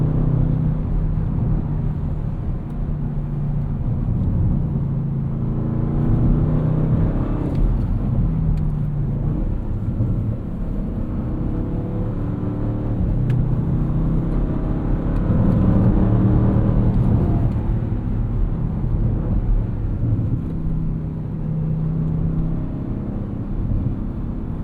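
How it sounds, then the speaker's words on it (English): A 2024 Audi RS6 Avant Performance wagon driving in dynamic mode after a two-gear downshift, its exhaust a loud, deep, continuous rumble and whir from inside the cabin, swelling and easing with throttle, no talking. "We immediately shifted down 2 gears. Got a lot more audible feedback from that exhaust"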